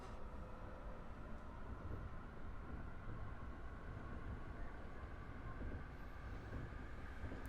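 A train rolls past in the Train Drive ATS 3 railway simulator game, a faint, even, continuous rumble of wheels and motor that holds steady throughout with no speech.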